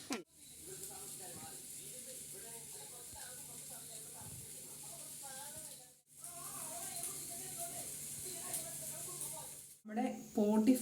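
Beef tripe (potti) frying in a pan while being stirred, a steady soft hiss and sizzle running under a voice that talks almost continuously, with brief pauses and a few clattering stirs near the end.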